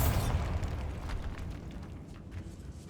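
Bombarda spell explosion in Hogwarts Legacy, set in a decayed catacomb: a loud close burst at the start trailing into a rumbling, crumbling wash that fades over a few seconds.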